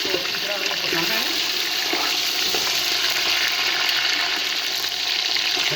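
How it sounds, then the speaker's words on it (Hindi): Beef with bones and coriander frying in a pot for commercial nalli nihari, a loud continuous sizzle with hissing and stirring throughout. "गोश्त को हमने 1 मिनट तकरीबन भून लिया है।"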